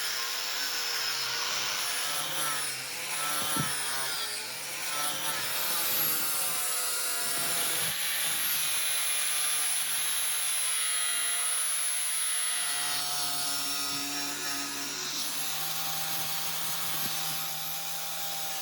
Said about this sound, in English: I'm cutting in a choil or sharpening notch with the edge of the grinding disc